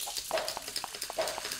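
Toy cars in a video game break apart as a stick strikes them, giving a rapid run of crunchy, crackling impacts, roughly a dozen close together, bright and unbroken, with no voices over them.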